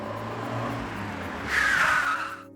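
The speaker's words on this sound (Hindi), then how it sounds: "बस यहीं पे रोक दीजिएगा गाड़ी" A car slows and pulls to a halt: a low engine rumble gives way to a louder burst of brake hiss with a thin squeal, then the sound cuts off as the car stops.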